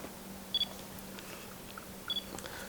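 Faint, brief high whine of a Pentax HD FA 50mm f/1.4 SDM lens autofocus motor, heard as two short quiet bursts against a low steady background hum.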